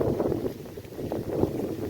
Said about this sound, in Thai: ลมแรงมากทุกคนนะ แปลกใจตรงลมพัดมาตลอดนี่